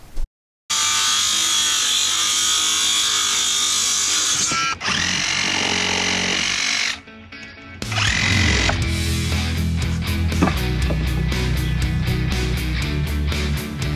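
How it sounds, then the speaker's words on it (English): A power tool whirs in sustained loud bursts, stopping briefly, then a rapid rattling impact driver hammers screws into wood of a porch step, near and loud. "I'm using an impact driver and not a cordless drill."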